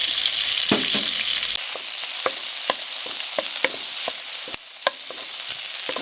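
Garlic sizzling in butter in a frying pan for longsilog, a steady close crackle and hiss broken by frequent sharp spatters and pops as it is stirred.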